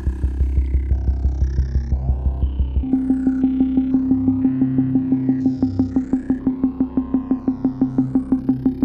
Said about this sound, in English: we'll take the sine wave from the first oscillator here